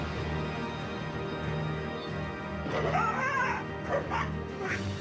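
A pet dog in a home courtyard at night yips and whimpers faintly at a distance, with brief high-pitched cries during a leopard attack, picked up by a CCTV microphone.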